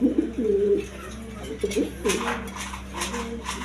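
A pair of high-flying Giribaz pigeons cooing close by in repeated throaty rolling bursts, with a steady low hum beneath and faint clatter and voices in the background.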